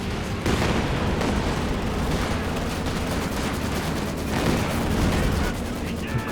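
Katyusha rocket artillery fires in a Company of Heroes 2 three-versus-three battle, a dense, continuous roar of rapid launches and blasts that stays loud throughout with no gaps.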